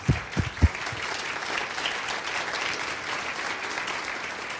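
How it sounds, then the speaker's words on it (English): An audience at a startup demo day event applauds its sponsors, a steady mid-distance wash of many hands clapping, with a few heavy low thumps right at the start. "Let's give them a round of applause."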